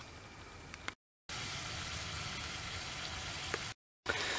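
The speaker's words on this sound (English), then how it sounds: "fry some corn and jalapeno pepper in some butter" Corn and jalapeno pepper fry in butter inside an off-grid RV camper kitchen, a steady close hiss and sizzle broken by two short silent gaps and a couple of light clicks.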